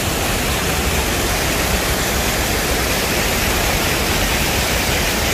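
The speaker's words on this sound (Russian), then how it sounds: "Посмотрите, какой каскад идет воды." Water pours steadily over a small river cascade in Vasilyevka near Yalta, a loud, continuous rushing hiss with no breaks or voices.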